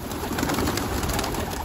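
Pigeons coo steadily and close by for a moment, a soft continuous murmur of calls with no talking over them.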